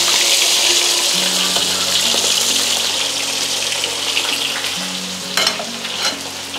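Cassava fries in hot oil in a pan for a home-cooked family meal, giving a steady loud hissing sizzle with faint clinks near the end; no one talks.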